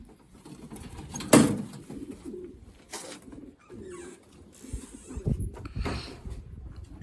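Racing pigeons coo and rustle in a loft, low soft calls repeating close by amid shuffling and a sharp clatter, with occasional faint thumps.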